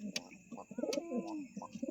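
Pigeons cooing close by, a few soft throaty coos with short chirpy calls in between, faint and brief, with quiet background hum.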